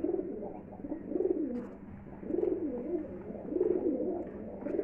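High-flying pigeons coo in a steady, repeating pattern, their soft throaty calls rising and falling in waves close by with no talking.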